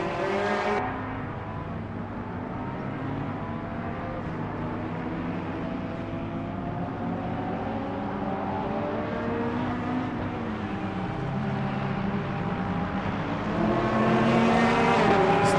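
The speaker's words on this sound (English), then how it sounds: "You can hear the Corvette. Sounds really good." Chevrolet Corvette race car in the Le Mans Ultimate racing game, its engine roaring steadily with rising and falling pitch through gear changes, loud and continuous with no talking.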